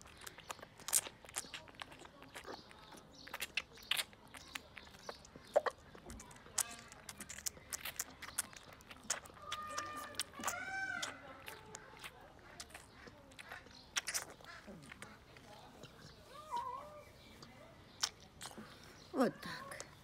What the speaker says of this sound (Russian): Мы уже едим с удовольствием мясо, как видели вы в прошлых программах.